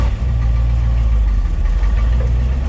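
Y-block V8 in a 1959 Ford F-100 4x4 pickup idling loudly up close, a steady deep rumble with a ragged, ticking pulse from leaking exhaust.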